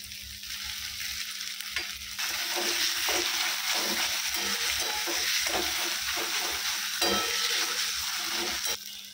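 Grated boiled potato frying in a hot wok, a steady close sizzle with scraping stirs that grows louder after the first couple of seconds and holds throughout.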